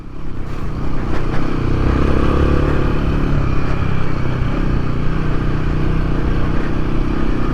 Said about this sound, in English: Little Himalayan's misbehaving a little bit, keeping the revs up